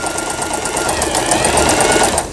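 An Elna 120 sewing machine runs at speed, a loud, steady mechanical whir and rapid needle rattle heard up close and without interruption.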